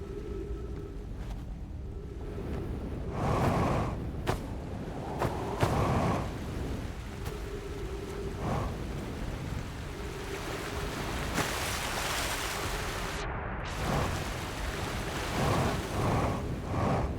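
Ocean waves and surf wash continuously on a planet's shore in the video game Outer Wilds, with repeated swells rising and falling over a steady windy roar.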